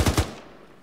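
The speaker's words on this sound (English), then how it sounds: "Taking fire." Arma 3 military game gunfire: two rapid close shots ring out and fade into a short echoing tail.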